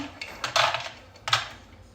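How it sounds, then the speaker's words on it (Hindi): A handful of makhana and cashews drops into a container for a smoothie, giving two brief clusters of light rattling clicks, close and fairly quiet, with no talking. "स्मूथी बनाने के लिए पहले मैं डालूंगी मखाने, काजू मुट्ठी भर के"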